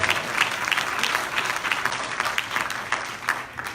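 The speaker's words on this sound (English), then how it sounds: "give God a hand clap of praise for all of them" A church congregation breaks into dense, continuous applause that stays loud and full throughout, with no speech on top.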